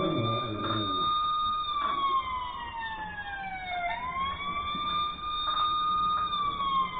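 Toy Fire Car System fire engine and police car sirens on an H0 model railway layout, overlapping electronic wails sweeping steadily up and down, loud and continuous with no talking.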